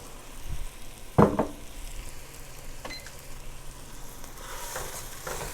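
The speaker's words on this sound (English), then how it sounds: "Since my onion appears to be done, I'm going to go ahead and toss in my risotto rice." Risotto rice tossed into a pan with cooked onion sets off a steady, close sizzle, with a sharp clatter as the grains land and faint stirring scrapes afterward.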